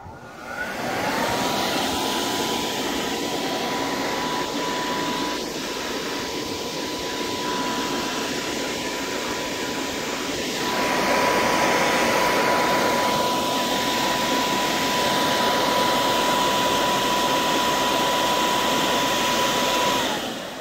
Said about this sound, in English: when the cap is opened and the machine turns on, fake snow will flow